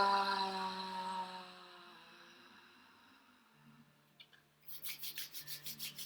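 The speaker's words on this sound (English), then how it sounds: "Rubbing your palms." Palms rubbing together during a guided breathing session: after a quiet stretch with faint drone, a close run of rhythmic swishing strokes begins partway through and continues to the end, with no talk.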